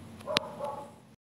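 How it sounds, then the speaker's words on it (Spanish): A dog barks once or twice, faint and distant in the background of a quiet room, a short sharp yip standing out against a low steady hum. "No estoy seguro si se escucha un perro de fondo"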